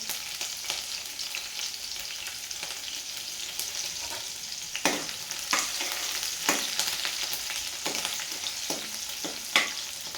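Green chillies frying in oil for dal, a steady soft hiss with occasional sharper crackles and spits over ten seconds, moderately faint, no talking.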